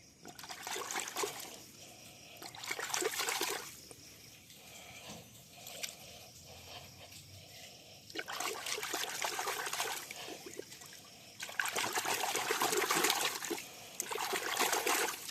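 Water poured out of a container while preparing vaccine for chicks, splashing and trickling in several bursts with short pauses between, close and fairly loud, with no talking.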